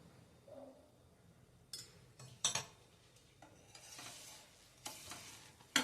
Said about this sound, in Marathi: तूप किंवा तेल तुम्हाला जे आवडत असेल ते घाला आणि छान खरपूस भाजून घ्या